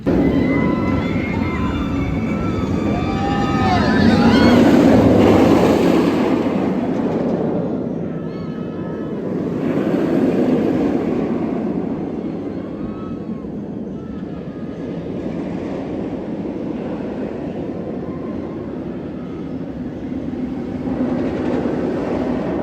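The Rougarou B&M floorless roller coaster at Cedar Point, formerly a stand-up, thunders along its track in a long, loud, rolling roar that swells and fades, with faint screams and voices mixed in.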